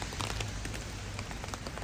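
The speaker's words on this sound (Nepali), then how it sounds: "पानी परिरहेछ" Rain falls as a steady, dense hiss of drops hitting surfaces, continuous and even throughout with no pauses and no voices.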